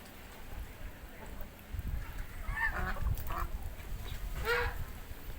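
Several farm-raised geese honk in short, scattered calls against a noisy outdoor background, moderately loud with some faint talk mixed in.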